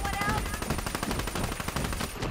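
Rapid automatic gunfire rattles in a Black Ops 3 zombies match, a dense run of sharp, loud shots over about two seconds with little pause between bursts.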